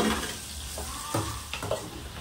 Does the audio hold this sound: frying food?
yes